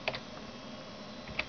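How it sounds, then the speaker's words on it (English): Typing on a computer keyboard while entering a DOS command to test a Creative SoundBlaster sound card: a few close, crisp key clicks at the start and end, with a quiet hum in between. "Then I'm going to type in the SB"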